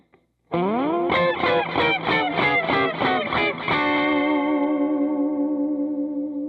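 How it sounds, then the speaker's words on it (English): A distorted electric guitar plays a fast rockabilly lick of repeated notes, a diminished chord shape descending the neck, ending on a sustained ringing chord with echo. "take a diminished chord shape and play it descending down the neck to create a laughing sound"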